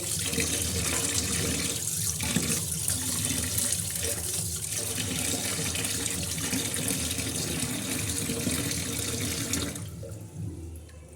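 Fish are washed under a steadily running kitchen tap, the water rushing loudly and continuously into a sink with splashing changes as the fish are handled, before the flow eases at the end.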